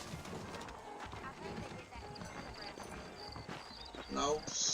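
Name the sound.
horse hooves walking, from a video game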